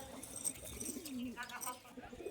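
Laldum pigeons cooing in a loft, a low rolling coo rising and falling over a steady background hiss, with soft chirps mixed in.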